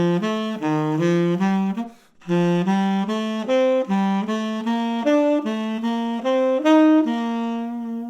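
A bright single-line instrument plays a diatonic step, step, skip pattern climbing up the major scale, clear, evenly spaced legato notes with a brief gap partway through, solo and without talking.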